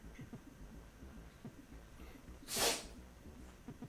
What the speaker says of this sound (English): You had your sneezing fit?